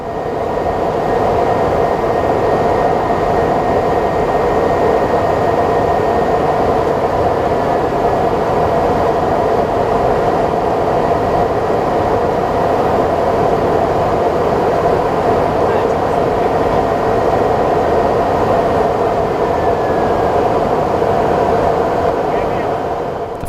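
Cockpit interior of an Ilyushin Il-76TD cargo aircraft in flight, a loud steady drone of engines and airflow with a faint high whine, unchanging throughout, with a voice talking over it.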